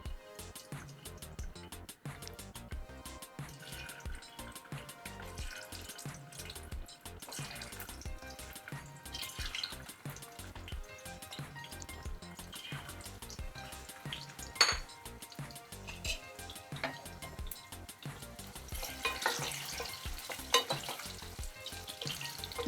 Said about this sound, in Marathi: आता हे तेल बऱ्यापैकी तापलेलं आहे, आपण याच्यामध्ये हे बटाटे सोडूया